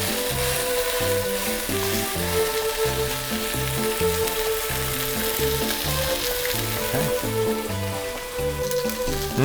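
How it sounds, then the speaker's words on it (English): Steak sears in a hot pan with a loud, dense, steady sizzle and crackle of rendering fat, close up and continuous throughout, with no talking over it. "We're then gonna lay the steak in."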